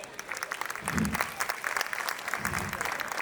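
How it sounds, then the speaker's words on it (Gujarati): An audience claps together in a burst of applause at a gathering, with the sound swelling and fading in waves. A voice talks faintly underneath. "જોરદાર તાળીઓ થઈ જાય"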